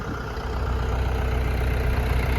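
A Scout 404C tractor works a field with a disc harrow, its engine chugging steadily at a close, moderate loudness with no other sounds over it.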